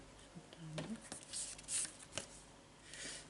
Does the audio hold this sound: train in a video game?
no